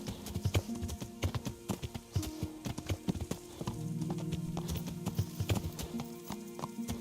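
Horse hooves clip-clop in Kingdom Come: Deliverance, a quick run of close, sharp hoofbeats over game music, briefly easing to a steadier pace before picking up again.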